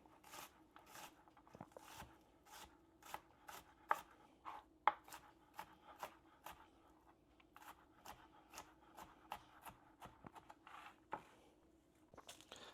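Knife finely chopping vegetables on a cutting board for spaghetti sauce, a steady run of sharp, close taps in quick rhythmic bursts with short pauses, no talking.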